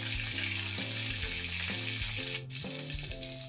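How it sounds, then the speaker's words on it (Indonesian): Shrimp paste (terasi) fries in a pan with a constant, bright sizzle, loud and close, while a melodic tune plays underneath. "Lanjut goreng terasi."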